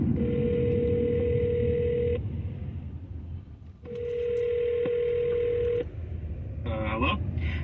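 A phone call is placed on a radio show line, with two long steady tones over a noisy hum and a short rapid burst of dialing beeps at the end.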